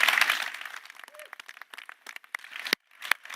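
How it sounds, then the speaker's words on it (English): Scattered applause from a small group at a European Space Agency astronaut class announcement, strongest at the start then thinning into a few sparse, separate claps with brief gaps. "Big round of applause."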